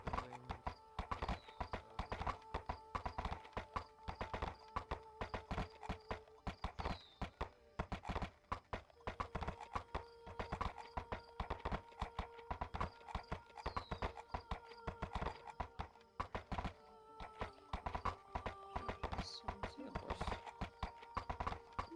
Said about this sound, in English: Heard a horse, see a horse.